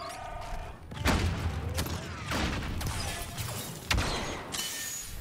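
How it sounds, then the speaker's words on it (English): Blaster gunfire in a Star Wars video game plays as repeated sharp crackling shots and bursts over a steady noisy game backdrop, fairly loud and continuous, with no clear talk. "Careful, Chewie, shooting at you"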